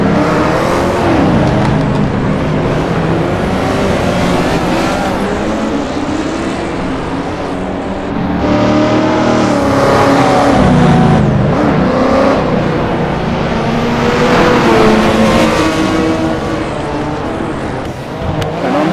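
Racing car engines in a VR sim-racing game during a drifting lap against a Ferrari and a Porsche, a loud continuous engine roar that rises and falls with revving throughout, with no voices.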